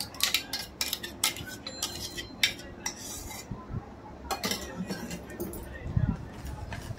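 A spoon stirs mango pulp into creamy shrikhand in a bowl, scraping and clinking irregularly at close range, with talking over the mixing.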